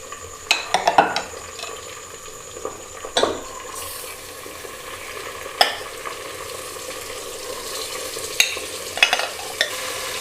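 Beef frying in a pot with a ginger, garlic and green chilli paste for haleem, a continuous low sizzle punctuated by several sharp clanks and scrapes of a stirring spoon against the metal, close up with no voices.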